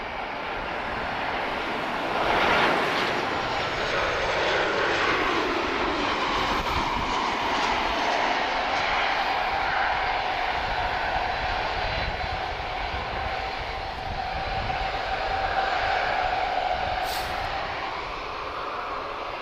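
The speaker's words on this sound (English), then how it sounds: "She's just arriving from Madeira, Funchal, 737-800." A Boeing 737-800 arriving from Funchal, Madeira rumbles at moderate distance, a steady airliner engine drone with a slowly shifting whine that persists for the whole stretch, fairly even in level.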